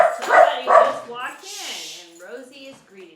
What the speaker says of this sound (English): It's my dog Rosie. She just barked.